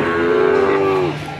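A Limousin cross heifer lets out a single close, loud, sustained moo lasting about a second, no talk over it.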